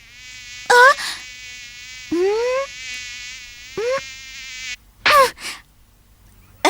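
A cartoon insect buzz in a Ninja Hattori-kun episode, a steady high whine broken by several short rising squeaky voice sounds, close and clear.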